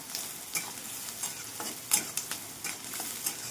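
Onion frying in a pan with curry leaves, cumin, mustard seeds and garlic, a steady low sizzle with a spatula stirring and scraping in short irregular strokes, close by and without voices.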